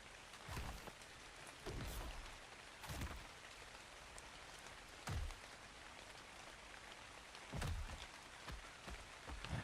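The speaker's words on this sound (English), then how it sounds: "it's all slippery because it's raining" Steady rain falls in ARK Survival Ascended, playing on PS5 on the Valguero map, with soft continuous patter and scattered louder drop impacts across the whole stretch, quiet and with no voices.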